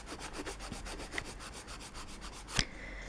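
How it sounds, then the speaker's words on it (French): A nail file scrapes back and forth across a fingernail during a nail repair, a steady faint rhythmic rasp of quick strokes ending in one sharper scratch, close and quiet with no voices. "ici je vais vite terminer le limage"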